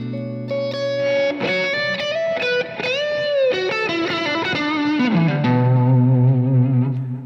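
A loud electric guitar through a booster pedal plays a run of sustained chords and notes, thickened with drive and effects, ending on a long ringing chord.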